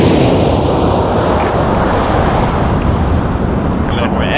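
A WestJet Boeing 737-800 in Swoop livery, arriving from Edmonton, lands at Toronto Pearson at night, its steady broadband jet roar loud and continuous throughout, with wind buffeting the microphone.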